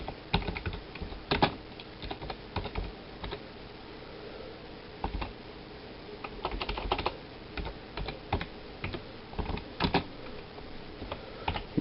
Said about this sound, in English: I'm typing into a serial terminal